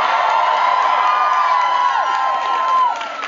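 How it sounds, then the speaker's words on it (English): A concert audience cheers and whoops continuously in a packed venue, a loud, sustained roar of voices with scattered shouts and whistles throughout. "You guys will cheer at anything right about now, won't you?"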